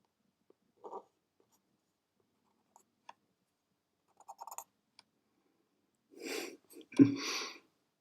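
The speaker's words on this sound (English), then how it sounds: "Now I'm becoming conscious of that scratchy sound of the pen on the paper." An ink pen scratching across paper gives sparse, faint strokes and small clicks separated by quiet gaps, followed by a louder burst of scratching near the end, close to the ear.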